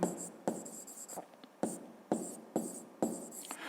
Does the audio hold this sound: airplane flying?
no